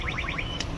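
A rental scooter's anti-theft alarm gives a short run of rapid, rising electronic chirps, fairly faint against background noise, with no talking.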